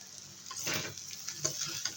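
Fish roe with bitter gourd frying and being stirred in a pan over a raised flame, a steady close sizzle with soft scraping strokes of the spatula.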